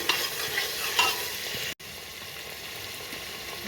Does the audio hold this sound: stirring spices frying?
yes